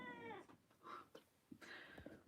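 A cat meows several times up close, drawn-out, wavering cries with short gaps between them, fairly quiet overall and with no speech.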